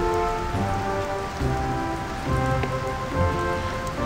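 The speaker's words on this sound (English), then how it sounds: "it rains a lot around here." Rain in Dungeon Siege pours down on the ground in a steady, dense patter, loud and close, with soft tonal ambience from the game underneath.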